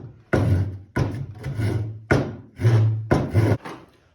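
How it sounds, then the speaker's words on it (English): A hand push saw cuts wood stock in six rhythmic rasping strokes, each a loud gritty burst with a short pause between, close and alone. "this is a push saw. So you're just going to want to make sure you add that push stroke"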